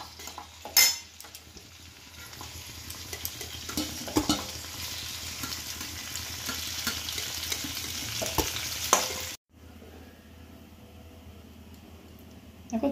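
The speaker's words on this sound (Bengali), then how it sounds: "দেখো আমার পটল ভাজা একদম কমপ্লিট" Pointed gourd (potol) pieces fry in hot oil in a Bengali kitchen, a steady close sizzle with occasional stirring and utensil clinks, ending abruptly near the end before a quieter stretch.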